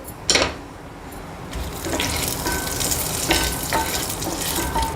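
Steady sizzling of cinnamon, cloves and bay leaves frying in melted ghee, a bright hiss that starts after a sharp clatter and continues close and even.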